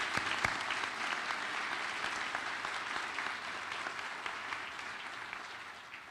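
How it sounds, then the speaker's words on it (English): A commencement audience applauds the graduates, giving a sustained, even wash of clapping heard from a distance at low volume, with a few sharper claps near the start. "a round of applause."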